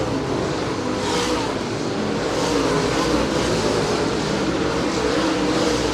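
Late model race cars roaring around the oval at Merritt Speedway, a loud, dense, continuous engine drone with overlapping cars blending into one sustained wall of sound, no voices heard.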